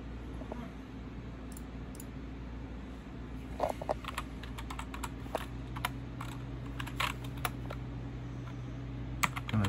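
Keys tapped on a computer keyboard, in short irregular clusters of clicks over a steady low hum from nearby computer equipment.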